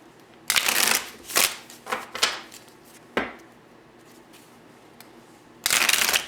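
Tarot cards are riffled and bridged in several sharp, crisp bursts separated by short pauses, close and loud with no talking.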